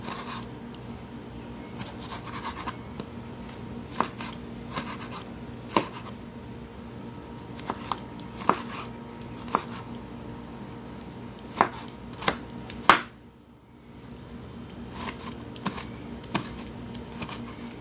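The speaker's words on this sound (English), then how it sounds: "Just rough chopping it some." Steady knife taps on a cutting board as tomatoes are chopped, a quick rhythmic chopping with a sharper clack near the end, close by and fairly quiet.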